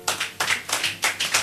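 Congregation clapping in a church service, a group of hands striking together in quick bursts, roughly four clusters of claps in a rhythmic, energetic pattern, fairly close and loud.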